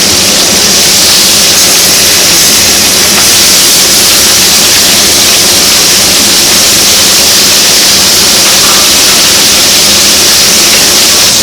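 Fillet steak searing in a pan on a BORA induction hob gives a loud, steady, close-up sizzling hiss that runs unbroken for the whole stretch, with no voices over it.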